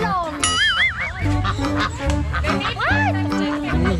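Loud honking quacks from several ducks or geese overlap in a noisy cluster close by, with people's voices mixed in.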